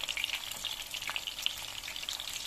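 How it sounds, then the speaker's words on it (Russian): Battered homemade chicken nuggets fry in hot oil, giving a dense, close, continuous crackle and sizzle with small pops and no talking. "наггетсы жарятся очень быстро, как я говорила"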